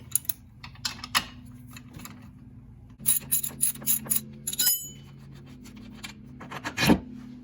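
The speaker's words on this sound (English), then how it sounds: "we're going to go ahead and take the bottom of the shock bolt off. 15mm on this side, and we got an 18mm wrench on the other side" Wrenches work on a lower shock absorber bolt on a Dodge Hellcat, a 15mm wrench on the bolt and an 18mm on the nut, giving bursts of close metallic clicking and ratcheting between quiet pauses.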